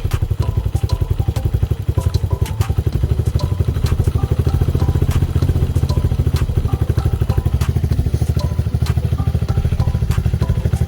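A Lifan KP Mini 223 OHC 165FMM engine runs just after starting, idling low with a steady, close, loud mechanical chug and rapid rhythmic clatter throughout, with no talking.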